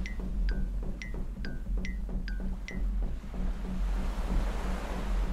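Sea waves from a children's cartoon set by the sea, a steady broadband wash of surf swelling and rolling throughout, with a low hum beneath and a few rising chirpy cartoon tones early on, no voices.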